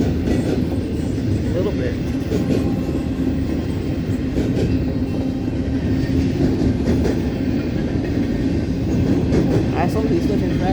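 Union Pacific manifest freight train passing a signal on a rainy day, a steady close rumble of rolling cars with faint clickety-clack under rain, continuous throughout, with a brief spoken remark.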